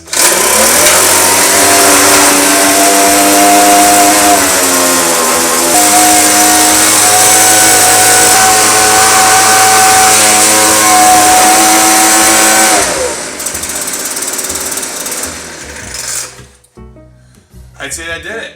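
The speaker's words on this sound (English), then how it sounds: "this is a Weedeater FB25 25cc gas blower" Weedeater FB25 25cc gas leaf blower engine running loud and close with a buzzing two-stroke whine that shifts in pitch, then drops off abruptly near the end and sputters out into quieter noises.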